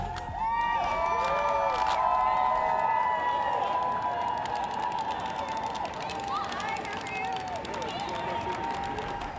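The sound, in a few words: crowd gathered at a United Way campaign party on the plaza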